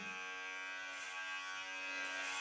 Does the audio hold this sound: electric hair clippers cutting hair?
yes